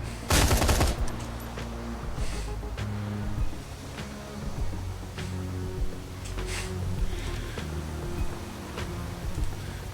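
Full-auto gunfire in Shadowrun Hong Kong: a loud, rapid burst of shots lasting under a second, then a low rumbling game soundscape with faint scattered pops.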